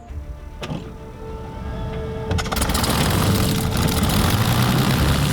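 A World War II Spitfire with a 27-litre Rolls-Royce Merlin 60-series engine rated at 1600 horsepower powers up for takeoff, starting with a few clunks and whines before swelling into a loud, sustained roar from close inside.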